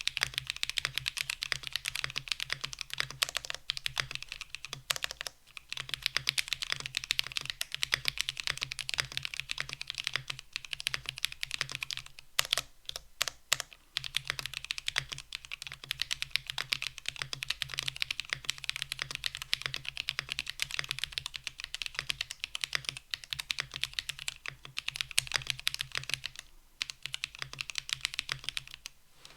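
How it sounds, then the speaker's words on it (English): Continuous typing on a Bakeneko 65 mechanical keyboard, a steady stream of crisp clacky keystrokes recorded up close with only a couple of brief pauses. "Alright, here's the sound test."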